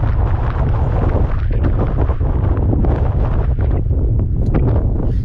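Strong wind roars continuously across the microphone on an exposed mountain summit in the Torridon Mountains of the Scottish Highlands, a loud, steady buffeting rumble with no pauses.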